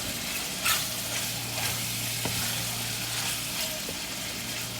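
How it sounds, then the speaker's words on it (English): About three tablespoons of chili paste stir-fry for char koay teow with a constant close sizzle, punctuated by a few light scrapes and taps of the spatula against the wok. "And just mix it and cook the chili for a little bit."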